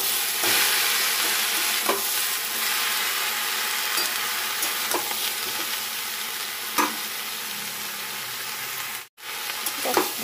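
Mixed vegetables including chilli, eggplant and tomato sizzle steadily in hot oil for khichuri, with occasional scraping stirs over a loud, continuous frying hiss and no talk.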